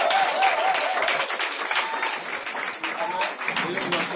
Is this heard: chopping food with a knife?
no